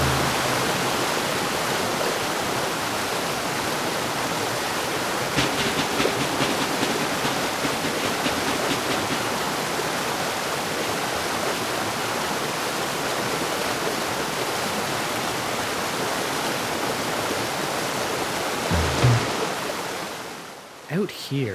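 Water rushing over stone in an outdoor stream, a steady broadband wash that stays loud and continuous throughout, with brief splashy surges near the end before it cuts off.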